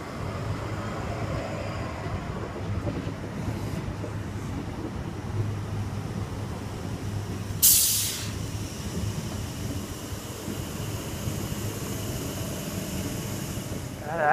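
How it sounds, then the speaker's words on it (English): A Sydney Trains S set, S81, an electric train, pulls into a station platform, a long steady rumble and hum with a sharp hiss burst partway through, heard without talk. "We have S81 arriving into the sprint platform."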